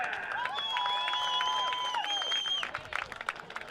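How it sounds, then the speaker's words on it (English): A crowd at a high school football game, Colby at Stratford, claps and cheers in the stadium, with scattered claps under shrill whistle-like tones that fade after a few seconds. "how about a big round of applause for that Stratford High School Batman?"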